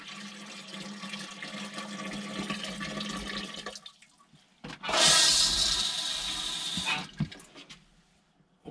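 A gallon of water poured down an RV toilet into the black water holding tank: a steady gurgling stream, then a loud rushing flush-like surge for about two seconds before it drains away to quiet.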